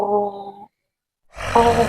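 A voice imitates a person snoring: a short voiced hum, a brief silence, then a rough, breathy snore-like rasp, close and loud.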